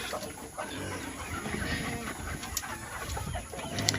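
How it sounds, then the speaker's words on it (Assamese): About fifty Leghorn laying hens on a poultry farm in Assam wait for their morning feed, a faint, continuous chorus of scattered clucks with no talking. "ইয়াত আপোনাৰ প্ৰায় 50 পিচ মোৰ লেগহৰ্ণ মুৰ্গী আছে"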